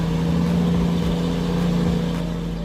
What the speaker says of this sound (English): Logging trucks are used to transport logs and timber from forests to sawmills or other processing facilities.